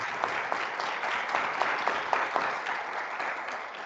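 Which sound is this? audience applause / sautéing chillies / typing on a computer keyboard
audience applause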